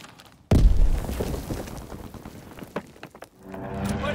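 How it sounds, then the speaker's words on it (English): A sudden loud crashing burst and rumble come from an aircraft strafing run in the World War II multiplayer shooter, followed by a rattle of scattered impacts and a droning engine tone near the end. "Call for a strafing run."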